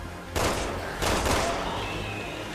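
Two heavy blasts burst out in the Resident Evil 6 Mercenaries mode, each a loud, rumbling roar that trails off, the second following about half a second after the first.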